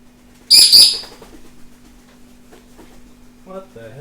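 A loud burst of bird chirping at a camp outdoors, sharp and close at first, then easing into scattered calls before more chirps return near the end over a steady hum.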